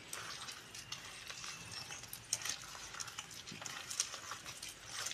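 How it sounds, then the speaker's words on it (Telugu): Wheat flour batter for bajji being stirred by hand in a bowl, a soft continuous wet sloshing and scraping at low volume with no talk. "చూసారు కదా ఎలా కలుపుతున్నాను"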